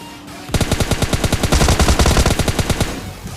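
An MK14 rifle fires full auto in a mobile battle-royale game, a rapid loud burst of about twenty-five evenly spaced shots lasting nearly three seconds, with nobody talking.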